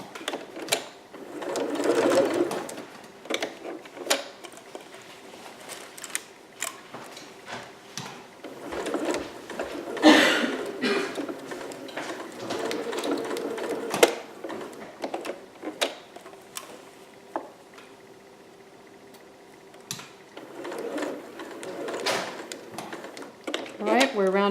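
A sewing machine runs basting stitches in short, uneven runs with pauses and handling clatter between them, close and moderately loud, while a person talks throughout.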